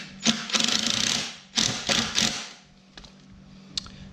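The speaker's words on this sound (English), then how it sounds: "I'm going to put my screw in just a little bit here. Just hand tighten it for a second so it's in already." A screw hand-tightened into a wooden DIY bed frame gives a few short scraping, ratcheting bursts up close, followed by fainter isolated clicks and taps.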